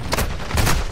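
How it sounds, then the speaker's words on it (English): Mortar strike explosions in Call of Duty: Modern Warfare II, a brief dense cluster of loud booming blasts and crackling impacts. "mortar strike got to me"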